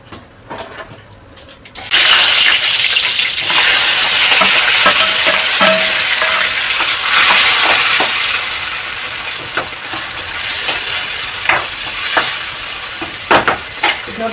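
Oil sizzling and frying loudly in a pan for a home-cooked tempering, starting abruptly after a quiet moment, with a steady crackling hiss and scattered sharp pops and stirring clicks throughout.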